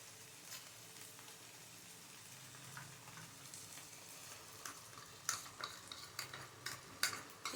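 Ginger-garlic paste being fried with a paste of cashew, poppy seed and green chilli, a quiet sizzle with soft stirring scrapes that turn into sharper clatters of a spoon against the pan toward the end.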